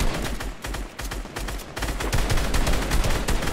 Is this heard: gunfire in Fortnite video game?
yes